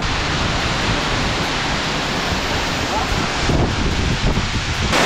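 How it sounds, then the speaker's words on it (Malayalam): Jogni Falls in Manali roars as a broad, steady rush of falling water mixed with wind buffeting the microphone, loud and continuous throughout. "എന്തായാലും നൈസ് വെള്ളച്ചാട്ടം കേട്ടോ."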